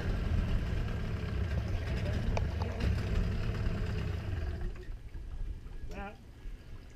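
A small outboard-style motor on a sailboat idles steadily and close by, a continuous low drone that drops quieter near the end, with a few faint clinks over it.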